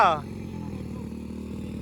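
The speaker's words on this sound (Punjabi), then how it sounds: "ਮੋਟਰਸਾਈਕਲ ਦਾ ਚੱਕਰ ਨਹੀਂ ਫੜਦਾ ਹੈਗਾ" A motorcycle engine that won't hold its revs chugs in a low, uneven idle after a brief voice at the start, close and continuous.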